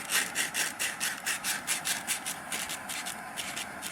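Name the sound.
sandpaper sanding a wooden dowel in circles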